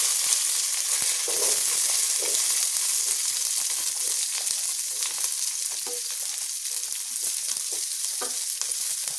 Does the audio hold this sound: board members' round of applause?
no